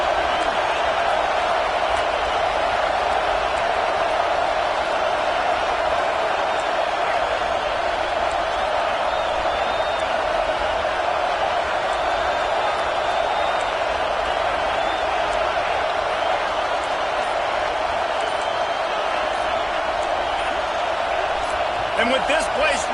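A packed stadium crowd in the Madden football video game keeps up a loud, steady roar of cheering and noise from start to finish, with no lulls.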